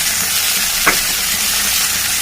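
Cluster beans frying with curry leaves and a little turmeric in a pan, giving a steady loud sizzle and hiss throughout, with one brief scrape of a spoon stirring partway in.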